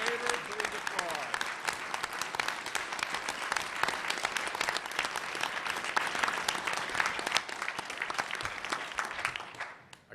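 A room full of people at a CUNY Board of Trustees meeting breaks into sustained, even applause that carries on for several seconds before tapering off at the end.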